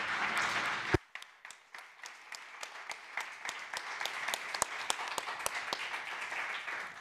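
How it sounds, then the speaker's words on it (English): A conference audience applauds the panelists at the close of an education event, a steady patter of many hands after a sharp initial thump, moderately loud and continuing evenly with no talk over it. "all the panelists deserve your applause"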